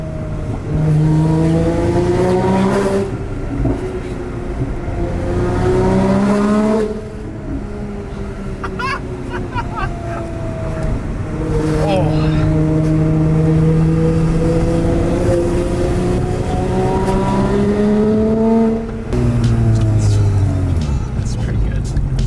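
A Porsche fitted with Soul headers revving and pulling away, loud rasping exhaust rising and falling through several gear pulls, heard from inside with people talking over it.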